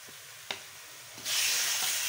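Chopped onion frying in hot ghee, starting as a soft sizzle with a single sharp clink, then swelling into a louder, steady hiss of frying.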